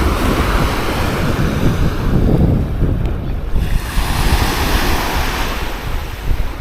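Continuous roar of ocean surf washing onto a seaweed-strewn beach in Martinique, steady and loud, with gusts of wind buffeting the microphone.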